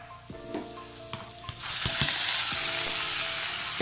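Onions sizzle and fry in a pan for squid biryani, a steady crackling hiss broken by a few light scrapes of stirring, fairly quiet, with no talking.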